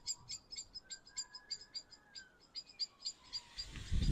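Birds chirping in Hampton Court Palace gardens near London, a quick series of faint, high, repeated chirps over quiet ambience, with a soft distant tone and a brief low rumble at the end.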